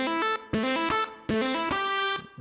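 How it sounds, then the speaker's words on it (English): Synth notes played with a chorus modulation effect, a series of sustained harmonic tones in short phrases with brief gaps, loud and alone with no talk. "really throw some chorus effect in there."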